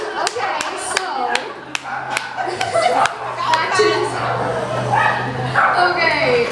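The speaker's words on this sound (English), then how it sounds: "Oh, that dog's excited." An excited dog barks and yips repeatedly in sharp, close bursts, with whimpers in between, while people talk and laugh nearby.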